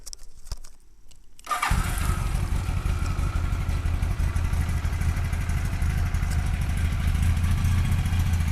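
A 1983 Eddie Lawson Superbike Replica motorcycle engine cranks and catches after a few quiet clicks, then settles into a steady, close, rumbling idle.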